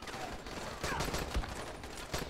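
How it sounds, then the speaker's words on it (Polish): Rapid bursts of gunfire from the Raisa, a legendary weapon in the video game Dying Light that fires triple shots, crackle repeatedly and loudly throughout. "I to nie ja strzelam potrójnie, ona sama strzela. Potrójnie. Ona ma potrójne strzały"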